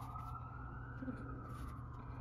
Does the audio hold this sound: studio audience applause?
no